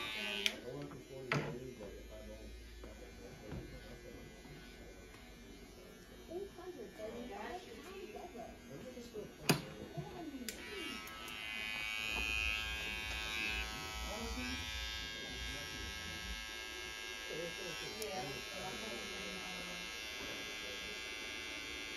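A Gamma Rebel hair clipper buzzes steadily up close while working a burst fade at a barbershop, a thin electric hum running throughout with small clicks and shifts, and someone talks over it.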